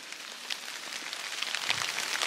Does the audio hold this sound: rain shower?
yes